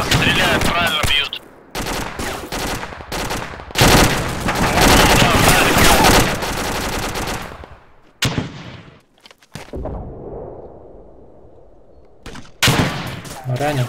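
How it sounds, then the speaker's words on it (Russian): ArmA 2 with the ACE mod at a train station location, where loud, sustained automatic gunfire comes in long bursts separated by pauses and single sharp shots, with players' voices occasionally heard between volleys. "Туда сейчас стреляют, правильно бьют."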